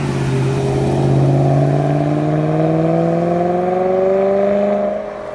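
A BMW M3 pulls away and accelerates on a road test drive, its engine note rising smoothly through the gears in a steady, loud whir before easing off at the end.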